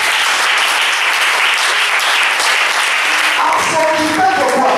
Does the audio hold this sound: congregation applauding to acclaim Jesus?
yes